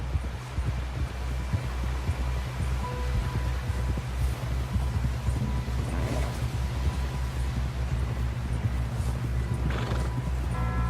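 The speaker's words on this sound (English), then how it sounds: "Someone help John down off this horse" Horse hooves in Red Dead Redemption 2 clip-clop steadily over ground with occasional whinnies, a rhythmic gallop beneath a low rumbling background.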